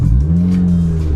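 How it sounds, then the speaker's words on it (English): A Honda Civic Type R EK9 exhaust swells through a short, loud rev, a deep rasping engine tone rising and then holding steady close by, with no voices. "I can hear the exhaust and it's nice"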